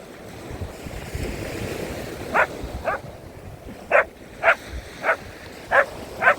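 A dog on a seaside beach gives about seven sharp, evenly spaced barks over steady surf and wind, fairly near and clearly above the wash of the waves.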